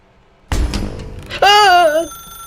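A telephone rings in the video game The Stanley Parable, a bright warbling tone heard once, about half a second long, after some muffled thuds. It is fairly loud and clear.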